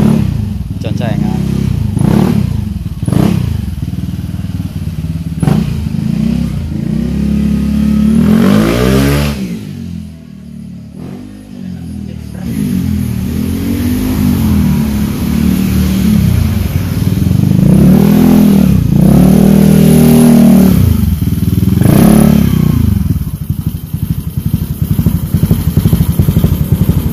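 A Honda Vario scooter with a 172cc build revs loudly and repeatedly, its engine surging up and falling back in short bursts, with a brief lull midway and people talking over the running motor.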